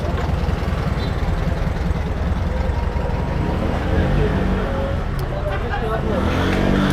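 Street traffic in Istanbul's Fener and Balat district, a dense, continuous rumble of idling and stop-and-go cars and buses, loud and close, with voices mixed into the noise.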